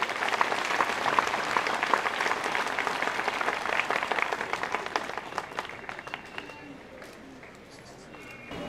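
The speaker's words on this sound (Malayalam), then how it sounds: "എല്ലാവരും നല്ല ഒരു ക്ലാപ്പ് കൊടുത്ത് സന്തോഷത്തോടുകൂടെ ആ വിവരം" An audience at a church community gathering breaks into sustained clapping, a dense, lively applause that gradually thins and fades toward the end.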